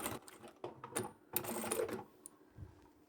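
Sewing machine backstitching across a small lined boxy bag, short bursts of quick needle rattling that stop and restart, fairly close and moderately loud with no talking.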